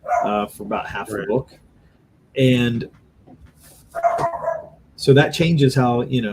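Pet dogs barking in a home studio during a talk about making comics, several sharp barks and yips breaking in between stretches of someone speaking.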